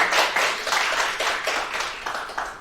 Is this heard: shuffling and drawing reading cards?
no